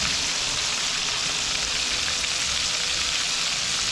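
Fish fries in a pan, a steady, loud, dense sizzle that fills the whole stretch without a break.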